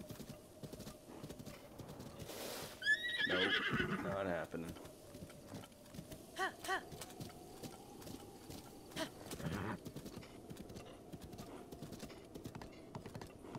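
In Zelda: Breath of the Wild, a horse's hooves clip-clop in uneven bursts and it neighs once loudly, with someone talking over the quieter stretches.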